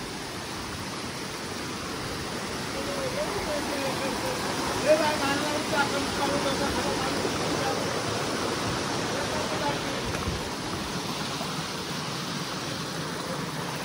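Water from Devkund waterfall in Maharashtra rushes in a dense, continuous roar at a stream crossing on the river trail, with no break throughout.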